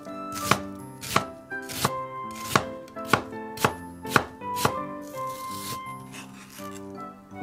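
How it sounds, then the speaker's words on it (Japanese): A knife thinly slicing an onion on a board, about ten crisp, evenly spaced chops with a clear knock on each stroke, close and alone. "こちらの玉ねぎもね、火を通さないんで薄切りにしていきます"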